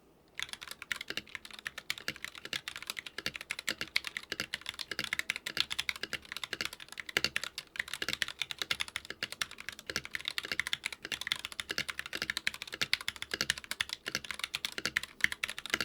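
Steady, fairly quiet typing on an NK65 polycarbonate custom mechanical keyboard with a solid, low-leaning tone, rapid clacky keystrokes running continuously and close up with no talking.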